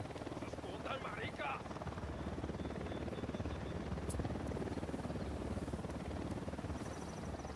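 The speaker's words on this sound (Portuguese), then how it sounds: "Helicóptero da unidade," A unit helicopter in the Ghost Recon Wildlands video game makes a steady, loud rotor roar that runs throughout, with a brief faint voice-like sound early on.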